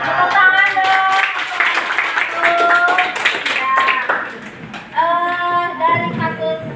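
A classroom group claps together after a request for applause, following a group's maths presentation; the clapping is dense and busy, mixed with voices talking and calling out over it before briefly dipping and resuming.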